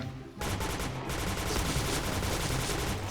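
Rapid automatic gunfire from a gun in the shooter game Point Blank rattles in a steady, fast stream of sharp shots that runs almost without a break after a brief quiet start.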